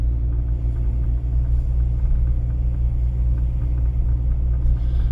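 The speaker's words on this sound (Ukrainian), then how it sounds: "Переходимо на першу передачу і знижуємо швидкість." A car engine drops into first gear and slows on a practical driving-exam route in Sharhorod, heard as a steady, loud low rumble from inside the cabin that holds evenly for about five seconds with no talking.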